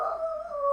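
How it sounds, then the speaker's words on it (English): Dogs howl in a brief, sustained, wavering tone, distant and faint, with no talk. "my dogs are going crazy."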